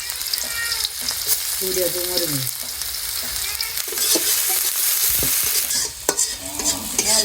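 Cumin seeds and chopped onion frying in a little oil, a steady broadband sizzle with scattered stirring scrapes and clinks close by, no voices.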